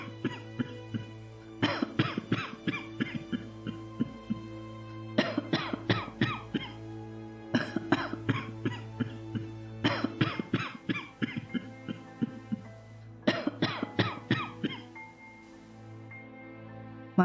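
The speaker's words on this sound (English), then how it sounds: "How long have you had that cough?" A person coughs in repeated harsh fits, several loud bursts in a row, then pauses before the next bout, all close and clear with no talk over them.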